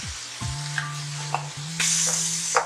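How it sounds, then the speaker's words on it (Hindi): Carrot halwa with khoya roasting in a pan, stirred in slow strokes with a spoon scraping the pan, over a steady close sizzle and a low sustained hum, with no voices. "इसको हमने भूनना है और बहुत ज्यादा भूनना है"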